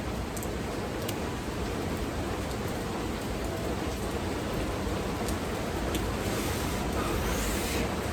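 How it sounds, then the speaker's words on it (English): Steady heavy rain pours down in a public park on a rainy afternoon, a dense, even hiss of falling water that continues without a break and with no voices. "it is rainy, y'all, and man, it is coming down"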